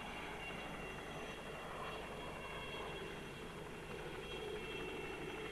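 A steady, droning helicopter rotor and engine roar holds at an even level throughout over a 1975 Formula 1 race at the Nürburgring Nordschleife, a continuous aircraft noise with no breaks.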